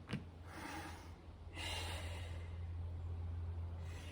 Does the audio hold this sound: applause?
no